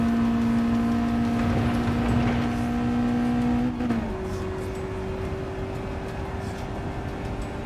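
A car engine droning steadily in Gran Turismo 7, held at a sustained whine before a gear change drops the pitch, then humming on at a lower, even note with faint tire and road noise.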